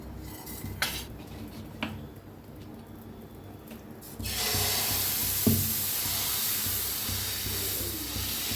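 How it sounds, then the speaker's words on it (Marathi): Water sprinkled on a hot dosa griddle hisses loudly into a steady steam sizzle after a few metal clinks and scrapes as a cotton cloth wipes the surface, with no talking. "एक कॉटनचा कपडा घेऊन सगळं पुसून घ्यायचं तवा"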